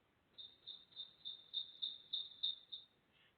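Songbird calling in a city, giving a faint run of about nine rapid, evenly spaced high notes in a steady repeated rhythm over low urban background rumble.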